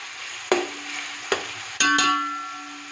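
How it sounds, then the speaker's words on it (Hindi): Onions frying in a pan with a steady low sizzle, broken by three sharp utensil knocks or scrapes, with a sustained ringing tone lingering after the last knock. "यहाँ प्याज को जो है ना गोल्डन ब्राउन कलर आने तक जो है ना इसको फ्राई करेंगे।"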